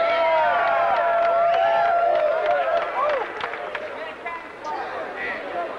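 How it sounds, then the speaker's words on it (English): Loud audience applause at a 1992 bikini contest in Long Beach, California, with cheering and high whoops, a sustained wash of clapping that thins out toward the end. "let's hear a big round of applause for Buffy Privot, number two."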